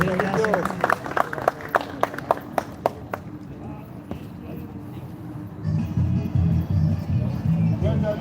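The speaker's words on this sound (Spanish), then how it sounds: "Fuerte el aplauso." A short burst of sharp claps rings out at a horse auction, loud at first and thinning out quickly, with an auctioneer's voice speaking through and after it.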